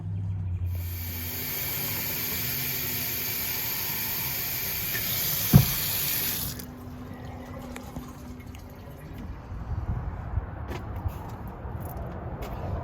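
Water pours into the cooling system of an overheating truck in a shop, a steady hissing, splashing flow close by for about six seconds, then stopping abruptly and leaving quieter background rustle.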